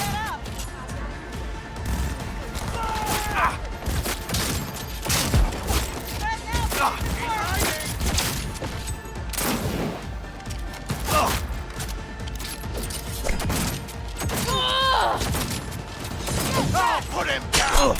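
Gunfire from a Cyberpunk 2077 firefight, rapid sharp bursts of shots rattling on and off throughout, close and loud, with mechanical clanks and shouting voices mixed in.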